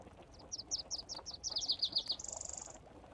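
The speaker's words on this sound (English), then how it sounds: "I feel like there's more birds than there normally are." A bird in the DayZ video game forest sings a string of sharp descending chirps ending in a fast buzzy trill, clear and moderately close over a quiet ambient background, no speech.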